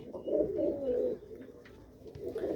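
Pigeons cooing close by where birds are fed grain, soft low throaty coos rising and falling in two or three rolling phrases.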